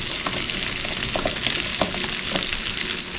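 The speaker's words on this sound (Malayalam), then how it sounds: "അതിലേക്ക് ചതച്ച് വെച്ചിരിക്കുന്ന ഇഞ്ചി ഇട്ട് കൊടുക്കുകയാണ്." Crushed ginger crackles and hisses in hot oil left from frying sardines, a steady close sizzle with scattered pops and faint stirring ticks throughout.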